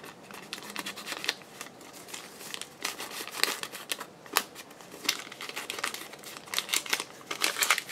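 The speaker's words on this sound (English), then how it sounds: "I'm going to actually crumple it." Paper packaging crumpled by hand, a dense run of crinkling and crackling bursts, close and fairly quiet, continuing irregularly throughout with no talking.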